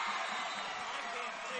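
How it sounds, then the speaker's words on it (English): High school boys' varsity basketball crowd, Blackford versus Alexandria, roars in a steady, dense wash of cheering and whooping that holds at an even level throughout, with a commentator talking faintly beneath it. "And the crowd is getting into this game."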